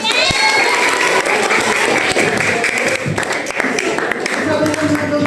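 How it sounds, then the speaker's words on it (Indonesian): Clapping from a group at a community service session in Indonesia: dense, loud applause filling about five seconds, with shouts and voices mixed in, fading slightly near the end. "Oke, tepuk tangan"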